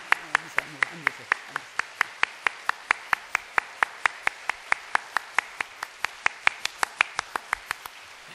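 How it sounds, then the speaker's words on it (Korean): A church congregation claps in a brisk, crisp, uniform rhythm, about four claps per second sustained for several seconds, close and clear with faint talk beneath. "아까하고 박수가 질이 다르잖아요"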